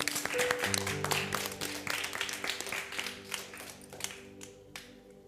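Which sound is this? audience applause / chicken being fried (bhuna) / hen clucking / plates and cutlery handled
audience applause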